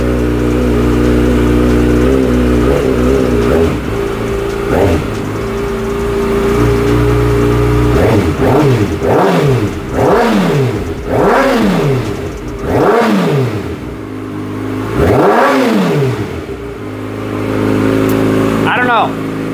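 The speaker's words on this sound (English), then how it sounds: "We'll give it a couple revs here in a second." A car engine fitted with a quieter exhaust insert idles and then revs up and down in a series of repeated rising and falling sweeps, close and loud.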